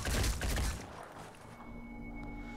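Gunfire in a tactical battle of the video game Phoenix Point, a loud burst of rapid shots at the start that fades into a lingering rumble and low ambient tones.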